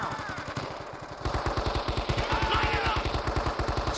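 Rapid automatic gunfire rattles in fast, even bursts during a Vietnam-era combat scene from Men of Valor, close and loud, building into a sustained stream of shots with a faint shout underneath.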